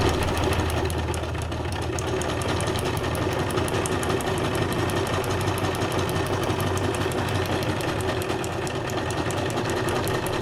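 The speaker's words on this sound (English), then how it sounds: "I got a lead foot going here on the sewing machine" A sewing machine runs steadily and fast for the whole stretch, a continuous mechanical whirring hum with a rapid needle rhythm, close and fairly loud.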